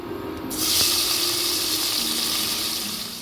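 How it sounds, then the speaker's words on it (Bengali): Peeled shrimp (prawns) hitting hot oil in a pan, a loud steady sizzling hiss that swells up and holds, close and alone with no talking. "এবার আমি চিংড়িগুলো ভেজে নেব।"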